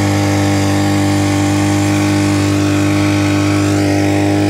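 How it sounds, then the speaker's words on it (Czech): A homemade 50cc engine built from a grass trimmer runs steadily at a constant buzzing pitch, loud and close, with no pauses or speech. "Motor pravděpodobně nabral druhý dech. Takže dneska jede, tak jak je očekávání."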